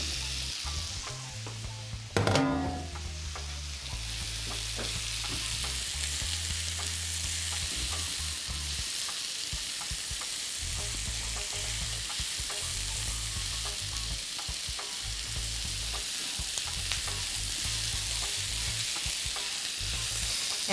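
Steady sizzling of courgette frying in a pan, continuous and close, with a brief clatter near the start as food is stirred.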